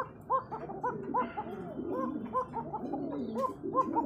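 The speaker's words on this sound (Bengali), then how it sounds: "অসাধারণ কোয়ালিটি কবুতর।" Pigeons coo in a steady series of soft, rounded calls close by, with several birds overlapping in a busy loft among a large flock of pigeons kept for sale.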